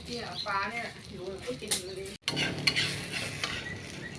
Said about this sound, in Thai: ทอดไข่ ใส่ชะอม นะครับ ทอดเรลืองๆนะครับ ทั้งสองฝั่งนะครับ